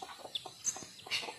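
A few soft, short clucks from a chicken, scattered and irregular, with light bird chatter in the background.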